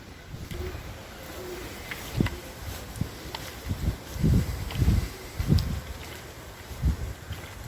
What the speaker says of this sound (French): C'est pour ça qu'il y avait un pigeon là